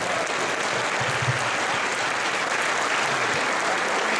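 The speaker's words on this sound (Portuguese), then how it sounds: "Vamos recebê-los com uma salva de palmas." A congregation claps at a church service to welcome a preacher. The applause is dense, steady and loud, and fills the whole stretch without a break.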